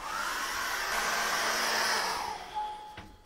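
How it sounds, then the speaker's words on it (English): A hair dryer blows steadily across a wet acrylic seascape painting, giving a close, continuous whooshing roar that eases off near the end, with no voices. "I'm going to dry that off with a hairdryer"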